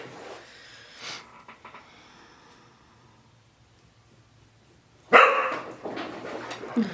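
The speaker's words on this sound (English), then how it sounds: "My dogs are playing." Dogs playing bark loudly and abruptly after a quiet stretch, followed by continued rough barking and scuffling, fairly close.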